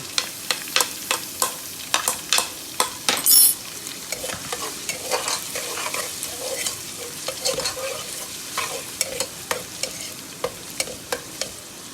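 Garlic sizzles steadily in a hot pan while preparing turnip curry, with frequent sharp clicks and scrapes of a spoon stirring against the metal, close up and without speech.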